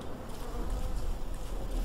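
Bees buzzing in the Don't Starve video game, a faint, steady drone that continues without pause.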